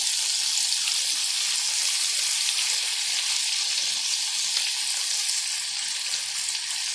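Chicken leg tikka pan-fries over a medium gas flame, producing a close, steady, hissing sizzle that runs unbroken and evenly loud throughout.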